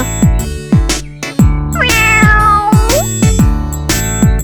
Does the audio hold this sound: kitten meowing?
yes